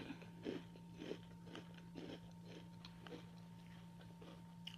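Cereal with 1% milk being eaten, with close, rhythmic crunchy bites and chewing repeating about every half second over a low steady hum, no talking.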